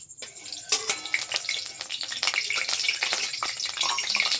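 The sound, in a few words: oil spluttering in hot kadai pan with traces of water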